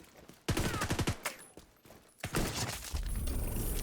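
Gunshots in The Division 2, two separate bursts of sharp cracking fire with mechanical clatter between them, close and loud, landing headshots while clearing a landmark.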